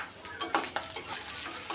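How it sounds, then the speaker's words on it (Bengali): Ginger, garlic and cumin paste fries in oil in a pan. A spoon stirs it in quick, light scrapes and clinks over a faint sizzle, close and quiet. "আদা দা একটু তেলের সাথে ভাজা ভাজা করে নিই"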